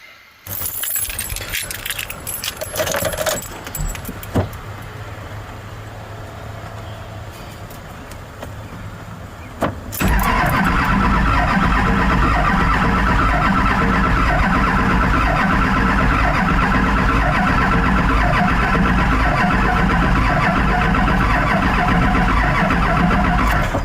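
A large Duramax diesel truck engine turns over and catches, then settles into a loud, steady rumbling idle after some quieter clattering at first.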